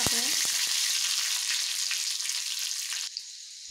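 Chopped green chillies and garlic cloves with curry leaves hit hot oil, an immediate loud crackle and spatter near at hand that settles into a steady hiss, then drops away sharply near the end; no talking.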